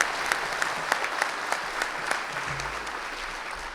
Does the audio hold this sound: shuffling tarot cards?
no